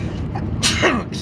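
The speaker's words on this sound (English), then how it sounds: "Didn't mean to sneeze on you guys." A single sharp sneeze bursts out near the middle, loud and close, over steady road rumble inside a moving vehicle near a trucking yard.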